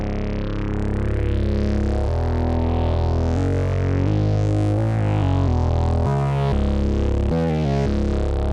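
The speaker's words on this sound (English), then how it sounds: "Cool little way to get some distortion if you don't have any outboard gear" Gritty, distorted tones from a Moog Matriarch analog synthesizer play a shifting melodic line, thick and buzzy with rich harmonics, loud and continuous without any talking.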